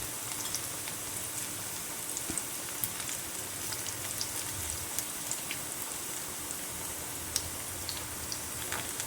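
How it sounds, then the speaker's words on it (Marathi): Crispy crab bhaji fritters frying in oil, a dense continuous crackling sizzle heard close and steady on its own, with small pops throughout. "अशा प्रकारे दाबून दाबून हे भजी सोडायचे"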